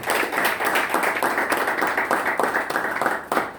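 An audience applauds at a public talk or event, a dense, steady patter of many hands clapping close and loud, continuous throughout with slight swells and no voices over it.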